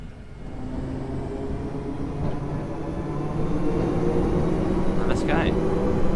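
A Class 456 electric train running on the South London network in Train Simulator Classic, a steady low rumbling hum with a faint whine, fairly quiet and even throughout, with a brief higher squeal near the end.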